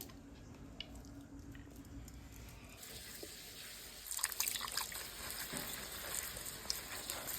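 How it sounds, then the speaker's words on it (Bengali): Chopped banana flower being rinsed in a bowl of water by hand, with a quiet start and then louder splashing, squishing and dripping from the midpoint onward, close by with no talking. "মোচাটা ছাড়ানো হয়ে গেলে ভালো করে এরকম করে ধুয়ে নিও"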